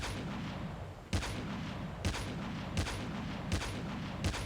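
Gunfire from a Call of Duty: Mobile battle royale match: about five sharp, spaced shots, each a brief broadband crack, over a steady low rumble of game ambience, moderately loud and with no talking.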